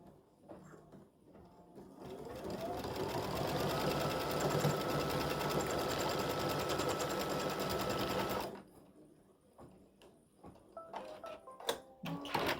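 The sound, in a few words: embroidery machine stitching out an appliqued gnome design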